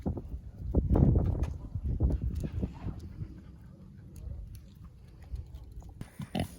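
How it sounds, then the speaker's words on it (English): Pigs on a Florida farm grunt and oink while being fed an apple, with several short, close snorts and squeals that are loudest early on and then give way to quieter, scattered grunts. "Now I'm going to feed the pigs an apple."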